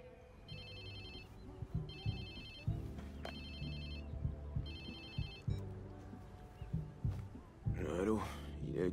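A telephone rings in the video game Watch Dogs 2, sounding as three clear rings of electronic trills with short gaps between them. The rings play over low game ambience and music.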